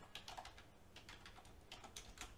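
Java code being typed on a computer keyboard, a quick run of light, close keystroke clicks with short pauses between bursts, no voices.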